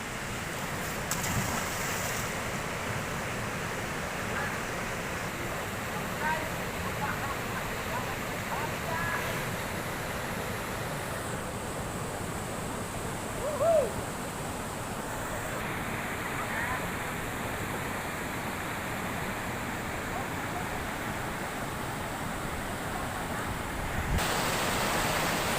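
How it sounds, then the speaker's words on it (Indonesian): Water rushing through a river sluice gate separating two rivers, a steady broad roar of flowing water heard close and continuous, with faint voices now and then. "Inilah pintu air, guys, yang memisahkan Sungai Bakilit dengan Babonda."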